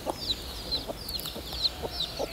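Hens on a farmhouse plot cluck softly in a steady series of about five short calls, faint and somewhat distant, with no talk over them.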